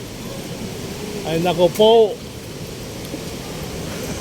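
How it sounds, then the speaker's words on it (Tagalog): Steady rain pours outdoors in a city near an MRT station, a constant broadband hiss beneath a short burst of nearby talking. "Umuulan pala."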